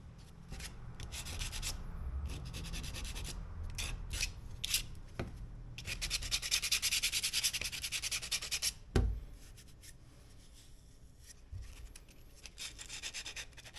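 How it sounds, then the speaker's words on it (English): Rhythmic hand sanding with 120-grit paper on a sanding block, a dry rasping scrub in bursts of strokes with pauses and a couple of sharp knocks, close and fairly quiet. "I am using a 120 grit paper on a sanding block to do final cleanup on the edges and surfaces."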